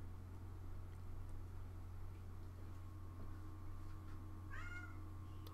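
A single short cat meow rises faintly near the end over a steady electrical hum, with no voices.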